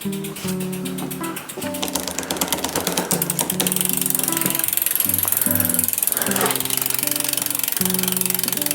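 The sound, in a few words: bicycle chain slipping off the pulley wheel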